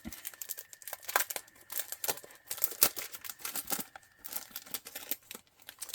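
Sheets of a sailing-ship-themed craft paper set are shuffled, crinkled and flipped close by, giving a steady run of papery rustles and crisp snaps with no talking.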